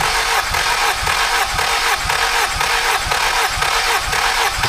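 Car engine cranking on the starter during a dry compression test, a loud, rapid, even rhythmic churning that holds steady throughout without catching.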